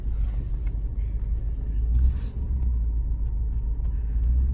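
A Cadillac DeVille with a 300 horsepower Northstar engine drives along, a steady low engine rumble and road noise from inside the car with slight swells in throttle.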